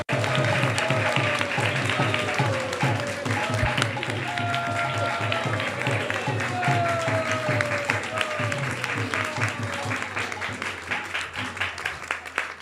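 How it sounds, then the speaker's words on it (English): Sustained crowd applause at an ISKCON temple Rama Navami celebration, many hands clapping loudly and continuously throughout, with faint voices mixed in. "please give them a heartfelt round of applause"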